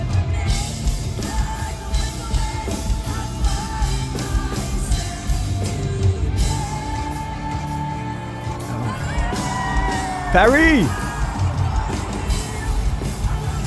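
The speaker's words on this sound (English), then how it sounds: "And you just heard the roar, like, from the stadium behind us." A large stadium crowd at a concert roars and yells in a dense, sustained wash, with a single nearby shout cutting in and a brief rising whistle near the end.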